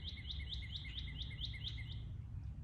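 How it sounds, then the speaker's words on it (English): Songbirds sing outdoors, a rapid series of about ten thin, high chirps in an even rhythm, fairly faint over a low background rumble. "I am surrounded continually by a lot of different songbirds"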